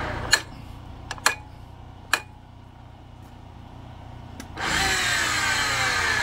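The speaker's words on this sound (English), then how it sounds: "Right now, the machine is threading into my fitting" A Ridgid 300 pipe threading machine starts up after several sharp metallic clicks and knocks, then settles into a loud, steady motor whine with grinding as it threads a pipe fitting close by.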